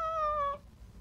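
A single cat meows once, a clear, fairly loud, slightly falling half-second cry, then quiet room noise.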